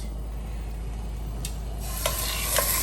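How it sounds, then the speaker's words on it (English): Pork chops searing in a hot pan on high heat, a steady soft sizzle that swells louder toward the end with a couple of brief clinks or stirs. "first we're gonna sear the pork chops"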